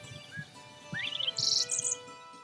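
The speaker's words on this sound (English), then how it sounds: "Listen for grassland birds like the dick sisal" Grassland birds such as dickcissel and bobwhite quail in open rolling prairie: a short chirp, then a rising whistle and several bright, buzzy trilled phrases, fairly clear over a low background hum.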